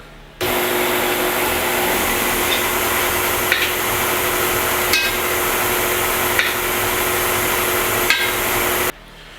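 Electric hand mixer steadily whirring as it cuts butter into dry buttermilk cake ingredients, a continuous close motor drone for about eight seconds with a few faint clicks of the beaters against the bowl, starting and stopping abruptly.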